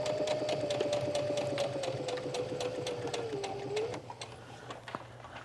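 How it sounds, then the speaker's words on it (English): A sewing machine stitches yoga pants with stretchy thread, its needle running in a steady, fast, close rhythm for about four seconds before stopping, with no talk over it. "I'm just going to sew all the way down"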